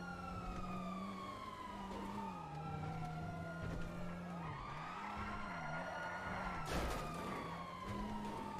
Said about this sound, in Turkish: Dört tane polis arabası var arkanızda.